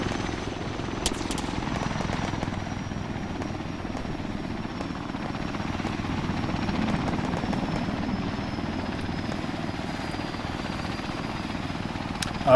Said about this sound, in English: a helicopter's trying to land